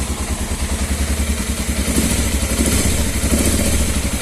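A Suzuki Djebel 250 motorcycle engine runs cold just after starting, a loud, close, steady rhythmic putter with mechanical clatter throughout, no voices.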